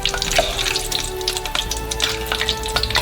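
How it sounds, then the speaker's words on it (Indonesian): Battered corn dogs fry in hot oil with a steady, loud sizzle and crackle, punctuated by occasional pops and stirring sounds, no voices. "Segera setelah hangat, goreng kornoknya."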